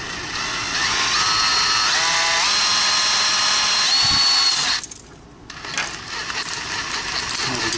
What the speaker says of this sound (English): just simply see if I can drill through these holes